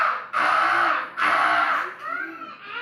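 A teacher in a cheerful classroom lesson imitates a crow with her voice, giving two long, loud, raspy caws followed by a shorter, softer call, close to the microphone.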